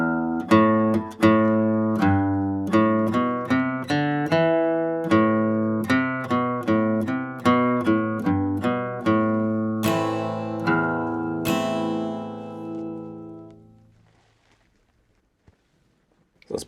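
Guitar picking out measures five to eight of the fiddle tune Cold Frosty Morning as a quick run of single notes, then a ringing final note that fades to near silence, played alone.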